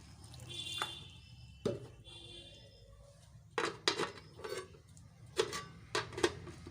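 Water is added to pumpkin greens in a pot, which is then covered, giving a few faint clinks and knocks of the pot and lid, plus a light splash, close but quiet against a soft background hiss.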